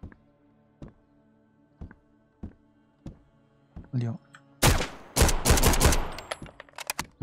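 Sharp single Makarov pistol shots in the video game Road to Vostok crack at spaced intervals, then a dense burst of rapid fire with voices speaking over it.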